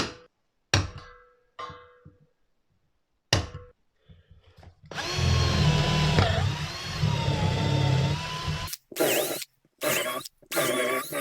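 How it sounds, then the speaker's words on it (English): A power drill with a 10mm bit whines loudly for several seconds as it bores into scaffold board wood for M8 inserts, surrounded by sharp knocks, clatter and brief silences. "the bit that I'm using to drill these holes is a 10mm drill bit"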